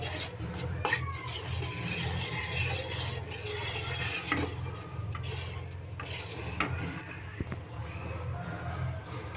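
Semiya halwa is stirred in a pan, a spoon scraping and rubbing against the metal in an uneven, continuous rhythm with occasional sharper clinks, close and moderately quiet.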